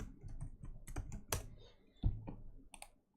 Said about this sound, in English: let's type welcome 1